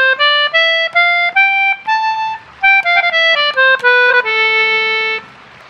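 An A natural minor scale, all white piano notes, is played on a reedy, harmonic-rich instrument as a clear sequence of about a dozen separate sustained notes. It is close and loud, ends on a longer held note, and has no talking.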